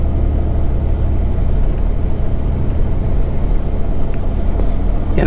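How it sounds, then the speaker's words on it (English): A 1954 Chevrolet Bel-Air with its 235 six-cylinder engine running, a loud, steady low rumble that stays even and close throughout. "You know, that 6-cylinder 235, I mean, it pulls very, very nice."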